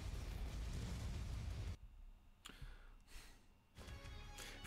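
A loud roaring burst from an explosion in the video game Geometry Dash, a sustained rumble cutting off abruptly, followed by quieter crackles and a second swelling blast.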